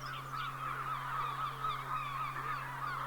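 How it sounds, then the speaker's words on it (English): A crowd of gulls squeals and honks in a steady, continuous chorus of overlapping calls, over a low constant hum and with no voices. "a great crowd of gulls flew up from the field, making their own squealing noise"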